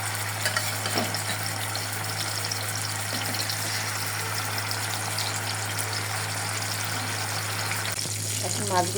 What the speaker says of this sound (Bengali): এখন মাছগুলো তেলে ছেড়ে দেব।